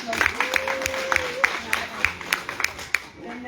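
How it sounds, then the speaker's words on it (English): An audience gives a round of applause, scattered distinct claps in a loose rhythm at moderate loudness, with voices murmuring and talking beneath them. "Let's give you another round of applause."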